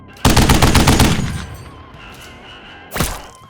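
A Flatline rifle sound effect plays during an Apex Legends board game, a loud close burst of rapid automatic fire for about a second, then a single heavy shot after a pause.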